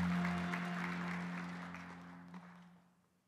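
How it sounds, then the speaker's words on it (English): A ceremony audience applauds at the Japan Prize presentation, a broad wash of clapping over a steady low hum, loud at first and then fading away over about three seconds. "give a round of applause"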